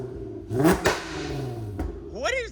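A car engine gives a quick rev up close, rising and falling sharply in a short burst with a clatter, while a person talks over it.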